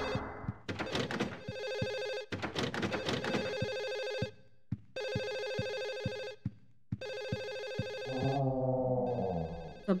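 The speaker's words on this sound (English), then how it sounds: "Figured out that phone ringing." An old-style telephone bell rings loudly in the Silent Hill 4: The Room video game, with repeated long trilling bursts separated by short gaps, ending in a lower warbling tone.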